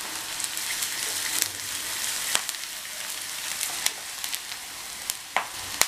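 Curry leaves fry with softened onions in a pan, a steady close crackle and sizzle broken by sharp pops and light stirring scrapes.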